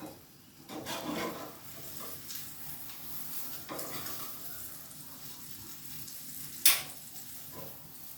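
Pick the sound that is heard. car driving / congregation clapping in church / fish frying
fish frying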